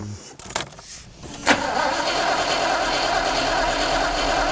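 A Rover 3500 SD1 cranks with a few sputtering bursts, then catches and settles into a steady, fairly loud running engine drone that holds to the end.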